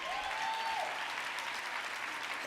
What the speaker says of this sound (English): Yes, you can give a hand clap for that.